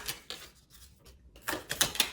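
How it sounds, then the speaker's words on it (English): Oracle cards being shuffled by hand in a few short bursts, crisp papery riffling and slapping with quiet gaps between them, close and fairly soft with no talking. "we're gonna get a few more shuffles"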